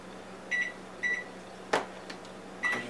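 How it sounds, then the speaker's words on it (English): Microwave oven with two olives inside: a low steady hum runs throughout, broken by short electronic beeps at regular intervals and one sharp crackling snap near the middle, all close by. "next, place the olives in the microwave"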